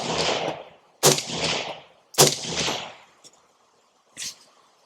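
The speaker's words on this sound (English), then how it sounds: "Still have that deep sound noise, even under this roof. Real deep tone and everything." Suppressed rifle shots from 5.56 55-grain ammunition fired through an 11.5-inch barrel fitted with an Axial 7.62 suppressor under a roof: three deep, booming reports about a second apart, each trailing off, then a fainter fourth burst.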